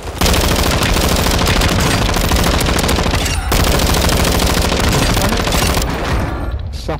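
Sustained light machine gun fire in a battle royale shooter, loud and continuous bursts of rapid automatic shots running nearly the whole time, with a brief break midway before tapering off at the end.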